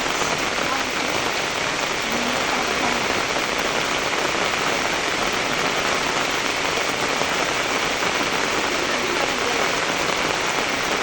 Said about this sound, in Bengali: যে পরিমাণ বৃষ্টিটা হচ্ছে